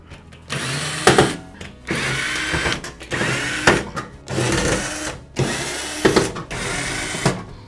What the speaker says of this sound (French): Une visseuse, un tournevis fonctionne très bien aussi